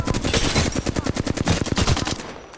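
Rapid automatic gunfire in Apex Legends, a dense burst of close, loud shots in quick rhythm that holds for about two seconds before tailing off, with no talking over it.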